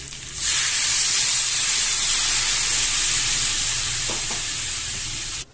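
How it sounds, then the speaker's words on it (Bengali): A loud, steady sizzle and hiss erupts as water is poured onto fried spices in a hot pan for a snail curry, roaring continuously for several seconds before cutting off abruptly. "মশলাটা ভাজা হয়ে গেছে এবার আমি জল দিয়ে দিচ্ছি"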